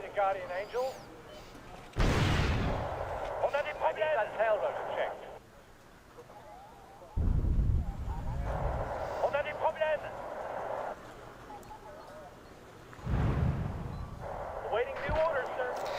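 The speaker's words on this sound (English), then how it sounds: "that's a jeep the Soviet artillery is shooting at" Soviet artillery in a war strategy video game firing at a jeep, heavy booming blasts recurring every few seconds with rumbling tails, mixed with in-game radio chatter and someone talking over it.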